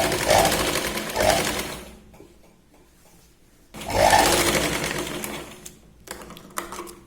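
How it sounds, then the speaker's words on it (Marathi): Electric sewing machine stitching a strip onto a katori blouse, two bursts of fast whirring stitching separated by a quiet pause, close and alone, ending with short taps. "इथे आपण एक दाब शिलाई लावून घ्यायची"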